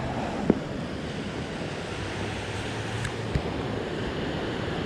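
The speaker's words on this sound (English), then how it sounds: "Let's go down here to the mouth, the base of the rapids." River rapids rush over big boulders at the base of a fall along a river near Seattle, a steady broadband roar of whitewater heard close and alone with no talking.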